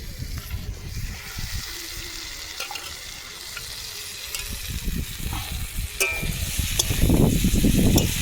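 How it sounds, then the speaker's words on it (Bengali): Potatoes and green beans sizzle and crackle steadily in a hot pan, with occasional stirring scrapes and a louder burst of frying near the end. "এবার আলু আর বিন কড়াইটাকে ভালোভাবে ভেজে নেব"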